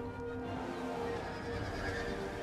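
In the Total War: Rome 2 battle, cavalry horses whinny and neigh over a dense bed of galloping hooves and battle clamor, the calls ringing out clearly throughout.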